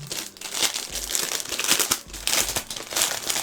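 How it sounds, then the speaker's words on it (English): Plastic packaging around an Eye Stunners 6-piece eye brush set crinkles and crackles as it is unwrapped, a close, continuous rustle with bursts of sharper crackle and no talking. "I got the Eye Stunners 6-piece eye brush collection. You guys are always asking for brush sets. I'll take it out of the plastic."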